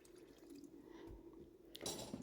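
Water is poured into a pot of goat meat stock for egusi soup, a soft, faint liquid splash and trickle that swells briefly near the end.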